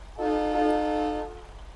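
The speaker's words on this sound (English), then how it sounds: "good old train horn that they added for the air horn" In a truck simulation video game, one loud, sustained blast of a deep, multi-tone train horn fitted as a truck air horn, lasting about a second, then silence.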